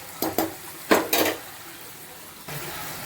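Mushrooms sautéed in a pan for mushroom gravy: a few sharp scrapes and clanks of a spoon against the pan over a faint, low sizzle, followed by a steadier frying hiss.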